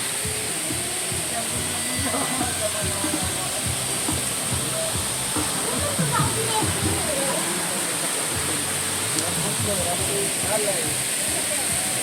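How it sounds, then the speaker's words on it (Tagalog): Water rushing at a waterfall in Barangay Maticdom, Tandag City, Surigao del Sur, a dense constant roar that fills the whole clip while people talk over it nearby. "Ang mga tubig ang mga gadagayday."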